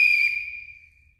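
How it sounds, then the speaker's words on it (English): A single short whistle blast rings out clearly and then fades away within about a second, a bright steady tone alone with no voices. "That whistle made a sound, but you didn't see it."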